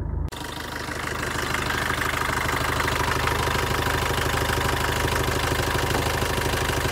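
A car engine, just restarted after an engine oil and filter change, settles into a steady, loud idle with an even mechanical rumble and fine ticking, close by after a brief start-up burst.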